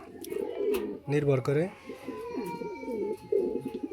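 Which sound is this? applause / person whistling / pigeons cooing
pigeons cooing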